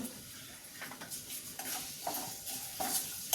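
Onions with salt fry in a pan, giving a soft, fairly quiet sizzle broken by irregular stirring scrapes and light clinks of a utensil against the pan, with no talking.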